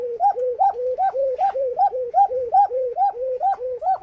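Pigeons at a pigeon breeder's loft coo in a steady, repeating series of throaty rolling calls, close and clear, one after another without pause and with no talking.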